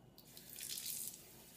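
A kitchen tap runs steadily into a sink for a couple of seconds, faint and close, swelling in the middle and then settling, with no talk.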